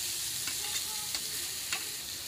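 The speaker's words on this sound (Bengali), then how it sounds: "এবার এতে আমরা ভেজে রাখা আলুগুলো দিয়ে দেবো।" Fried potatoes tumble into a hot frying pan and get stirred, a steady close sizzle with a few scraping clicks of the spoon and no voices.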